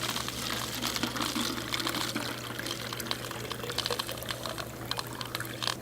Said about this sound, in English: Or you can take that water bottle and just fill it up.